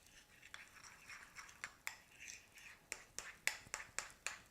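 A spoon stirs a Snickers pudding mixture in a bowl, giving faint, irregular clicks and scrapes at a quick, uneven rhythm in a quiet room.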